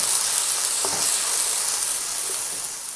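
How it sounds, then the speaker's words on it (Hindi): Cauliflower, potatoes and spices for aloo gobi sizzle in a hot pan with a steady, close hiss. A couple of soft stirring knocks sound partway through. "गोभी, आलू और ये तमाम मसाले शामिल करके इसको हल्का सा फ्राई करूँगी।"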